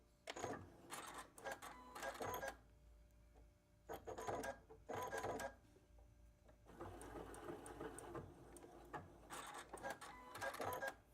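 A sewing machine runs in several short bursts, back stitching to reinforce the edges of a fabric butterfly, close and clear with quiet gaps between runs.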